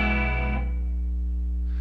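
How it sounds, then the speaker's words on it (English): A sustained musical tone drenched in heavy room reverb, its rich harmonics ringing loud and then decaying into a long, warm tail, with no speech. "Now here's lots of room reverb."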